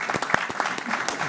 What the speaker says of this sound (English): Well, let's applaud first.